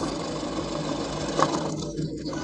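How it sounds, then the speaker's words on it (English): A machine shreds potatoes into small pieces with a steady, close mechanical whir that runs without a break, plus a brief louder burst partway through. "this machine is shredding the potatoes into small pieces very quickly"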